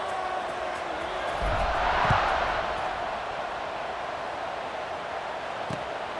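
Broad crowd roar fills a stadium in EA College Football 26, a Colorado vs Arizona game, swelling briefly near the middle as a steady wash of cheering runs underneath, with faint thuds and no clear speech.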